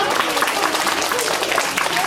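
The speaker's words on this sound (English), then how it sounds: "Well, applause, please." Audience applause at a magic show, a crowd clapping steadily and close, with a voice speaking over the clapping.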